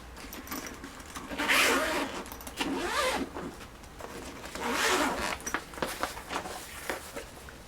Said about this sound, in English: Let's unzip and see what's inside.